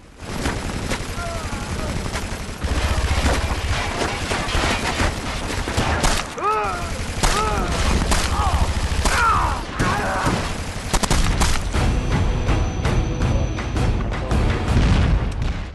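Gunfire from SOCOM 4 multiplayer beta played with PlayStation Move: loud, dense, almost unbroken bursts of rifle and machine-gun fire with heavy booms layered through the whole stretch.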